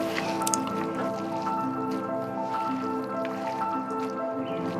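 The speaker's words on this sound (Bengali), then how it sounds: "এবার এতে দিয়ে দিতে হবে সরষের তেল মাপ অনুযায়ী।" Mustard oil is poured onto raw mutton pieces, a soft, close wet trickling and squishing over a steady background hum.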